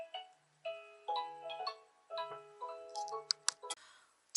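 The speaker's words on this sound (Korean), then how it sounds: "전화가 와서 잠시 끊겼어요." An incoming call ringtone on a phone plays as a tinkling electronic melody of short repeated tonal phrases, fairly quiet and heard alone, ending in a few sharp clicks.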